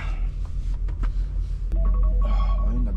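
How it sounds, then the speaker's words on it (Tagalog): A cellphone alarm starts ringing partway through, a steady tonal electronic chime over loud low rumbling background noise inside a truck cab. "Alarm na yung cellphone ko para gumising ako"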